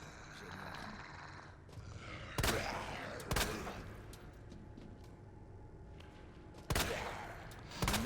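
Gunfire in the video game Resident Evil 2 Remake: several sharp, separated shots spaced a few seconds apart, fairly quiet, over faint game ambience with a voice and breathing sounds.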